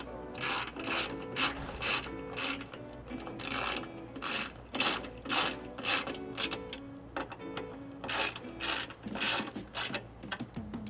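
Rapid bursts of ratchet clicking as supplied hardware is tightened to mount an ARB on-board air compressor on a Nissan Frontier, repeated strokes in a steady rhythm, close and clear with no talking.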